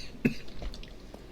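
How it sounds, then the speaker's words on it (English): One short, sharp cough close to the microphone, followed by quiet room noise and faint small sounds. "Sorry about coughing every once in a while."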